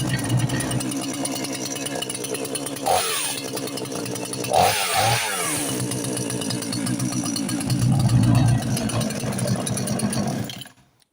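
A chainsaw that races flat out on start, its throttle control faulty, roars loudly at high revs for about ten seconds with a couple of brief dips, then cuts off abruptly.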